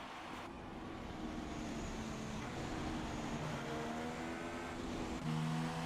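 A Formula 1 race car in a video game on a flying lap at the British Grand Prix, its engine droning steadily at high revs throughout, shifting pitch slightly with gear changes and rising near the end.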